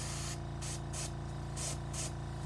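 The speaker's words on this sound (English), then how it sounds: "I'm kind of just going to spray a stream" An airbrush sprays silver sparkle paint in a steady hissing stream that runs the whole time, pulsing slightly as the spray is pushed and eased, with no talking.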